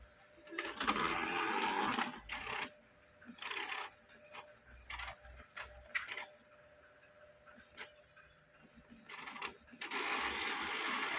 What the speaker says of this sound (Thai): เทสหัวพิมพ์ดูก่อนแล้วก็เดี๋ยวค่อยมาเคลียร์ซับเบึกให้ลูกค้าทีหลังนะครับ จะปิ้นเทสก่อน